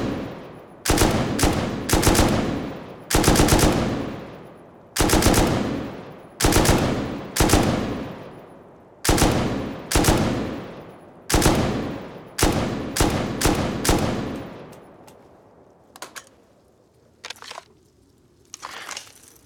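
Gunfire in the video game Rust: a dozen sharp, loud shots fired at a steady rhythm, some in quick doubles, each with a short decaying tail, followed by a few fainter scattered clicks and thumps.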